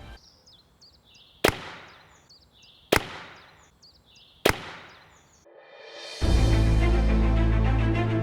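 A powerful crossbow fires three sharp, loud snapping releases at steady intervals, each decaying into a ringing twang, followed by a louder broadband whoosh and rumble that swells and holds to the end.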